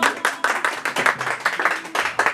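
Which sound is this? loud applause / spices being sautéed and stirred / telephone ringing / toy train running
loud applause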